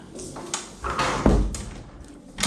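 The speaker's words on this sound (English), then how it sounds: "if we shut this door here" A warped wooden door is pushed shut close by, with a scrape as it swings and a dull thud as it closes, while someone talks over it.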